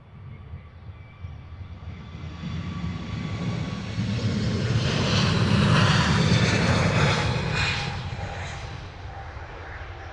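A Jet2 airliner in grey livery passes at London Luton Airport, a broad jet roar swelling to a peak mid-way and then easing off, steady and moderately distant.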